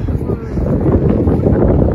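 Steady wind buffeting the microphone at a Pennsylvania ski and snow tubing slope, a constant low rumble with no pauses, fairly loud and close.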